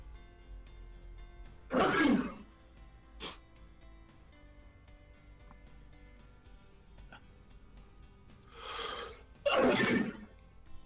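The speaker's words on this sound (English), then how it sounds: "My allergies kicking in, and I sneeze quite a lot right now." A person sneezes in a quiet room, two loud explosive sneezes several seconds apart with a smaller breathy sound and a short throaty noise between them.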